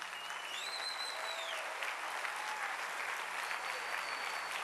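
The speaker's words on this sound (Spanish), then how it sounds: "Denle un aplauso al Rey." A church congregation applauds steadily, a dense wash of clapping at moderate distance with faint whistles rising above it.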